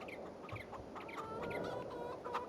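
Chickens cluck steadily around a chicken coop on a Farming Simulator 22 farm, a continuous layered chatter of several hens with short repeated calls over a busy background, no talking.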